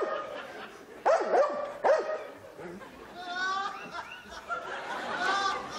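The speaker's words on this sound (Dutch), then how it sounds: "Een toneelstuk met 6 herdershonden in de hoofdrol." Several shepherd dogs on stage in a theatre play bark and yip in repeated loud bursts, followed by higher whining and whimpering, with laughter and murmuring voices mixed in.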